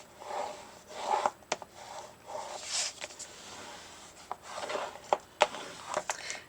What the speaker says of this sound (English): we are going to do some burnishing of our score tape